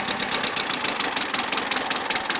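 Small tractor engine idling low and steady, a continuous close mechanical rumble with rapid even pulsing and no voices.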